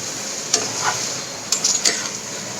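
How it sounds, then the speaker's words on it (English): Fried potatoes and drumsticks in mustard paste are stirred in a pan over a steady sizzle, with a few scraping strokes of the spoon standing out, alone and close. "So giving it a stir. Be careful and mix it very gently because your potatoes are already cooked."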